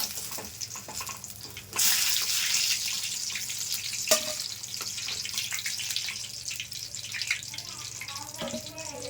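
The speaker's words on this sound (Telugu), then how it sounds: "ఇవన్నీ మిరపకాయ చూసారా ఇలా వేగాలి ఒక పక్క" Chilli bajji fry in hot oil, a soft steady bubbling hiss that swells louder partway through and carries on, with a few clinks and faint voices in the background.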